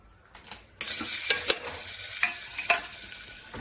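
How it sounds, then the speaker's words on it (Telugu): Onions sizzle in hot oil in a kadai, beginning abruptly with a loud hiss that settles into a steady close crackle, broken by a few sharp stirring clatters and spits; no one speaks. "బాండీలో ఆయిల్ వేసి ఆనియన్స్ వేయాలి ఫ్రెండ్స్."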